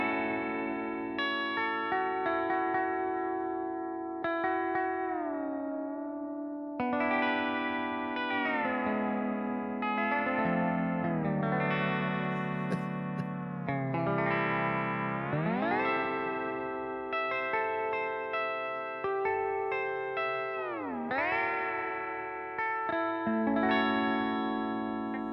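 Virtual steel guitar app on iOS played in a dreamy C6 tuning: sustained, heavily effected chords that glide and bend between pitches, with smooth slides and a reverb-washed, chorus-like shimmer throughout.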